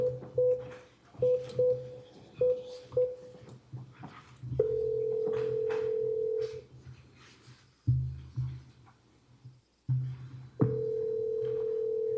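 Telephone line tones sound while a commissioner is dialed into an Augusta Commission meeting held in open session: short repeated beeps, then longer steady tones broken by clicks and gaps, clear and with no voices.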